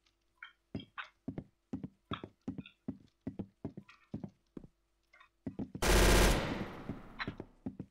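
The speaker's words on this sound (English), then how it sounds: "That was not a scar. That was a machine gun." A machine gun fires in a video game in a series of short, evenly spaced bursts, then one long loud sustained burst near the end, with no voices over it.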